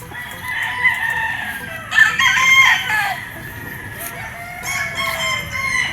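Gamefarm roosters crowing loudly and clucking up close, several overlapping crows with short clucks between, and no talking.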